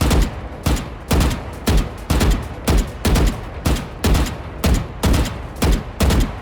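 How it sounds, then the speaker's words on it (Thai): Gunfire in the video game Valorant: about a dozen loud, evenly spaced bursts fired at a training bot, each a sharp cluster of shots with short gaps between, close and dominant. "ยิงเสาก่อนหนึ่งนัดแล้วก็ไปยิงแบบเบิร์ชใส่ตัวของบอท"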